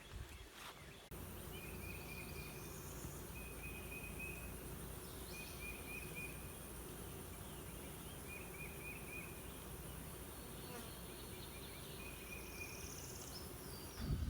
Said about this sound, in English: the absolute bee activity in this tree has this low, constant, loud hum